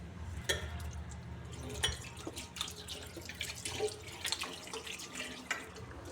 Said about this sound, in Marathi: हे नळ आहे मित्रांनो नळ